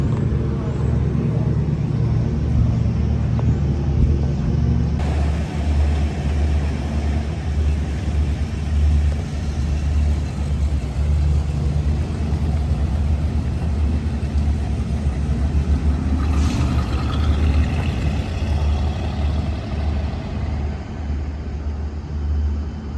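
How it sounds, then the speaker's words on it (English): A 1970 Chevrolet Caprice with 58k miles starts up and drives off, a steady low engine rumble running loud and continuous throughout with a brief rise in the middle, no talk over it. "we're gonna fire it up now, show it drive down the road"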